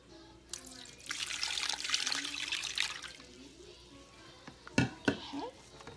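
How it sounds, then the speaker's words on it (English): Water pours and splashes into a corned beef brisket pot for a few seconds, followed by a couple of sharp metallic clanks, with no talking. "And I'm going to put some more water."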